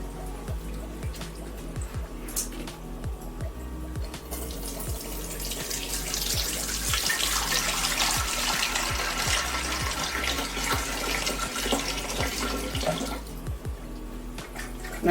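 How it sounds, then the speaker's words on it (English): Water from a kettle pours into a new aquarium, a steady splashing rush that swells after a few seconds and then tapers, heard close with faint clicks and no talk. "now we're going to put water in the aquarium. This will take a couple of kettles full."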